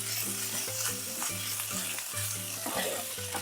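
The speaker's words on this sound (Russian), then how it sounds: "Когда обжарилась паста, смешиваю ее с морковью и луком." Tomato paste frying in a skillet, stirred together with carrot and onion for a sauerkraut soup, makes a steady close sizzle, and a spoon scrapes and clicks rhythmically against the pan while music plays underneath.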